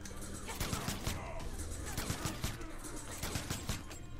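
Jacqui Briggs's hand cannon shots being blocked in the fighting game Mortal Kombat X, a rapid series of sharp popping impacts in quick bursts at moderate loudness.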